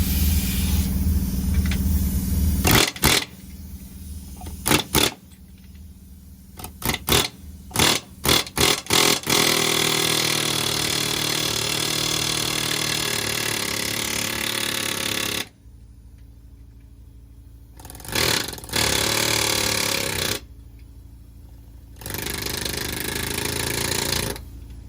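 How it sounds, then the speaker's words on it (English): An air hammer pounds at a vehicle's center bearing in a workshop, firing in loud close bursts of rapid hammering, some short and choppy, one long sustained run, separated by sudden silences. "We're gonna hit this one with air hammer."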